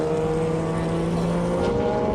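A Nissan Silvia race car drones past on the Hampton Downs circuit during a GT scratch race, a steady engine hum over ambient track noise.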